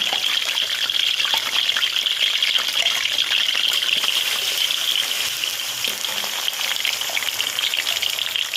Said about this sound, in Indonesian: Bumbu kuning yang sudah kita blender, bumbu opornya kita masukkan ke penggorengan bunda.